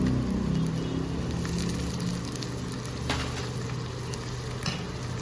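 Ginger garlic paste sizzles in a hot pan with browned onions while a spoon stirs it, a steady close frying hiss broken by occasional scraping strokes.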